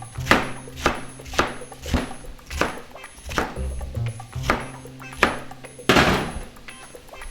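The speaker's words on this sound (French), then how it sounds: "Je vais couper du chou encore." A knife chops cabbage on a board, landing about a dozen firm, evenly spaced thunks close by, each with a short crisp crack, and no talking over them.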